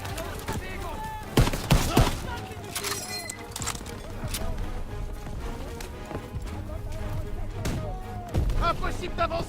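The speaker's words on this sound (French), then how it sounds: "ces mitrailleuses tirent sur notre position" Machine gun fire in the Call of Duty WWII campaign, a dense, continuous battlefield din of rapid gunfire and explosions, with sharp louder cracks early on and a constant wall of noise.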